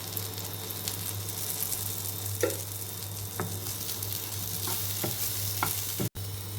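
Eggplant frying in a pan for a fish-curry-style eggplant curry: a quiet, even sizzle over a low steady hum, punctuated by a few soft scrapes and taps of stirring.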